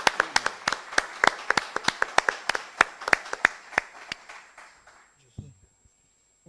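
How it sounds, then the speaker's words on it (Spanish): Applause from an audience in a conference hall at an international congress on Jesuit missions: a modest round of distinct hand claps, fairly faint, thinning out and fading after about five seconds. "aquí le devolvemos un caluroso aplauso desde esta sala"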